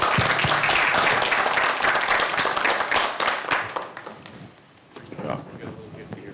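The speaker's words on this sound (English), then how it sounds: "let's give them a round of applause" Audience applause closes an evening leadership presentation, dense clapping from a room of listeners that holds strong, then tapers off and quiets, with a voice speaking over the last moments.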